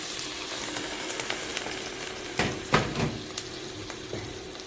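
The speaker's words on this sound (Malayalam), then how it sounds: "നമ്മുടെ മസാലക്കൂട്ടത്തിൻ്റെയൊക്കെ ആ പച്ചപ്പ് മണം മാറുന്ന വരെ നമുക്ക് എണ്ണയിലിട്ട് നല്ലപോലെ വഴറ്റി കൊടുക്കണം." Masala paste sautés in oil for a Kerala-style fish curry, a quiet, steady sizzle broken by a few louder stirring scrapes and spatters midway, close up and with no speech.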